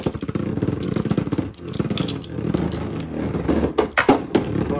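Beyblade Burst spinning tops, Savior Valkyrie against Golden Dynamite Belial, battle in a stadium right after launch: a loud, continuous whirring grind broken by sharp clattering clashes and scrapes, with no talking.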